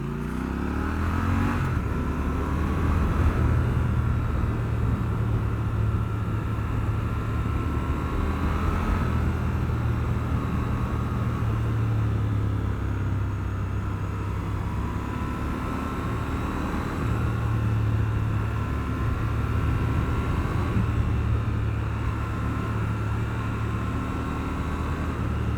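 A 2021 Triumph Scrambler 1200 XE's engine drones steadily and close as the rider downshifts, with the pitch stepping up and down as gears drop, over constant wind rush.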